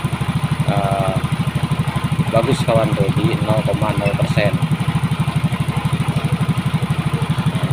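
A Yamaha Soul GT motorcycle idles after repair of a hard-starting engine, its steady rapid engine pulse running throughout at close range while someone talks over it.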